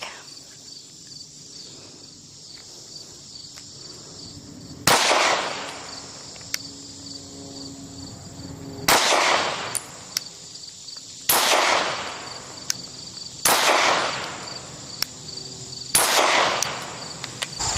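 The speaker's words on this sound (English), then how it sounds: "first 20 rounds with the VP9 Match at 8 yards" A VP9 Match pistol fires at 8 yards on an outdoor range: five sharp, loud reports spaced a few seconds apart, each with a ringing decay, over a constant high insect drone.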